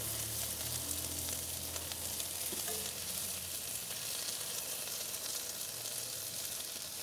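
Chipotle marinated shrimp spread over a cabbage and onion mixture on a charcoal grill, hissing in a constant, even sizzle that stays moderately loud and close throughout.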